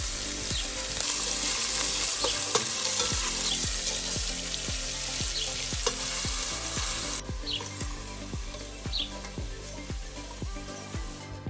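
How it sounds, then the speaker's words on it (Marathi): Julienned carrots fry in oil for a Kabuli pulao, a close, continuous sizzle broken by regular scraping strokes of a spatula, the hiss easing to a quieter level partway through. "तेल घालया इले आणि गाजर तळसून घेवया."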